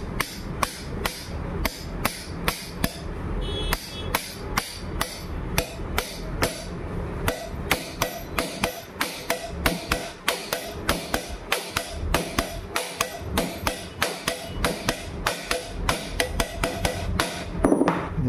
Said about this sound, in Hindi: ऐसे नट को या कोई चीज को सपोर्ट रखते हुए केम को इस प्रकार से ठोकेंगे।